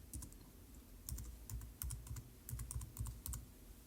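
Rapid keystrokes on a computer keyboard, clicking in uneven bursts at close range with short pauses, quiet and alone without talk.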